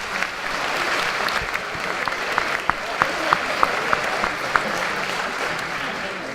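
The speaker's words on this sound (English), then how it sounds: "A round of applause for our students," A crowd applauds students at a high school academic awards ceremony, steady dense clapping with a few sharp nearby claps standing out in the middle, sustained throughout.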